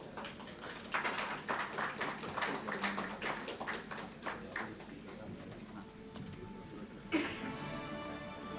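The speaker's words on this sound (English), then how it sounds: "Let's have a big round of applause, please." Scattered applause from a medical summit audience at a hospital deep brain stimulation event: a handful of sharp individual claps, fairly close, thinning and fading toward the end with a last clap near the close.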